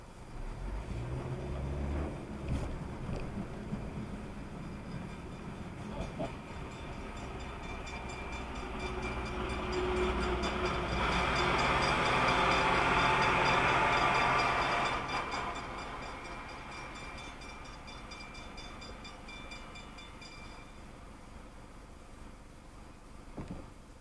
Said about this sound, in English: that was the Loram maintenance train